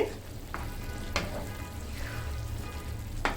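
Rice boils hard in a pot, a dense, steady bubbling hiss with a few sharper pops and crackles breaking through, close and moderately loud with no voices.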